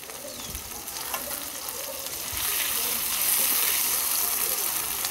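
Cumin paste hitting hot oil in a pan while cooking a Bengali potato and eggplant fish curry, a loud continuous sizzle with crackling that swells partway through.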